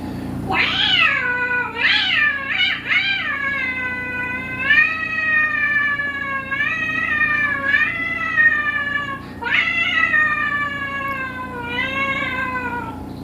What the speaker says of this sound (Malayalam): പുറകെ ഒരു പൂച്ച വന്നു.